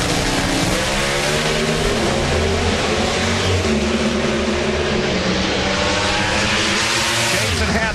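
An NHRA drag race car at the 2009 Gator Nationals roars at full power, a loud, sustained engine blast filling the whole stretch without letup.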